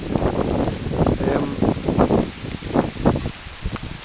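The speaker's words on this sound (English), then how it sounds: "There's the rain there" Steady rain falls through a walk in Lamlash on the Isle of Arran, a continuous close patter with bursts of heavier drops and rustling over the whole stretch, no voices.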